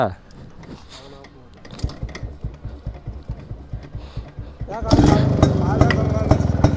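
A vintage Yezdi motorcycle being started, rapid rhythmic mechanical clatter of the kick and engine catching, then a louder, dense running rumble, close by, with people talking over it.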